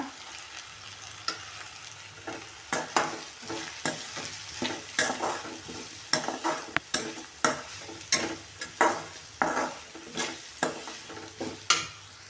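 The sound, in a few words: coconut being roasted and stirred in a pan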